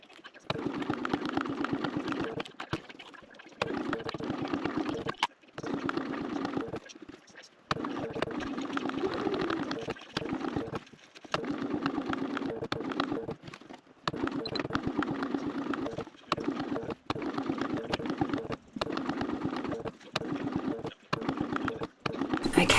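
A sewing machine runs in repeated bursts of a few seconds each, separated by short pauses, as it stitches backpack strap anchors; the mechanical whir is steady and close, with no talking.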